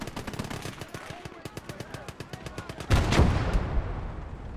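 An MG firing in the WWII game Gates of Hell: a long run of rapid, evenly spaced bursts, then a heavier loud blast near the end, with faint voices at times.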